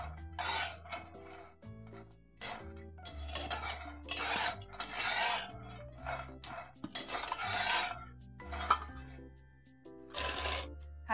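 Peanuts roasting in a pan for sabudana khichdi, with loud irregular metallic clinks and scraping bursts of a utensil against the pan, separated by short quieter gaps, no voices.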